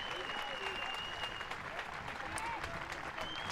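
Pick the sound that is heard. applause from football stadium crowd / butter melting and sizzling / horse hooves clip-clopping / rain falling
applause from football stadium crowd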